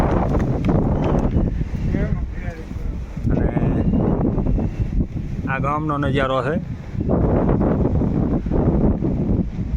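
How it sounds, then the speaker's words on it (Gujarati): Strong wind sweeps across the hilltop at Parnera hill station, a steady buffeting roar on the microphone that continues beneath people talking throughout. "પવન બહુ છે"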